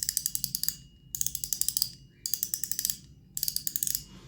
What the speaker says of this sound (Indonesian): Bunyi klikernya buat saya nyaring.